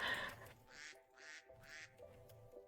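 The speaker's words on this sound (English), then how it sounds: "Oh, cute little ducks." Minecraft ducks quacking in the video game, three distinct bursts of nasal quacks in a steady rhythm, moderately loud over a faint background hum with no talking.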